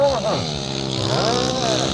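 Velocross motorcycles accelerating during a Copa Mobil Centro-Sul race, their engines whining up and down in pitch as they pass, under an excited commentator talking over them.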